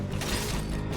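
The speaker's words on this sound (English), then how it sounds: "Grabbing ammo." Ammo pickup in the sci-fi shooter game Aliens: Fireteam Elite, a short mechanical clatter and ratcheting click, steady and close, alone without talk.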